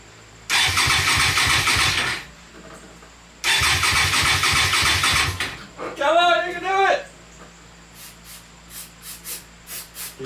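An engine from a scrap yard, primed with starter fluid in the carburetor, cranks hard in two loud sustained bursts separated by a short pause, followed by a brief voice and faint ticking.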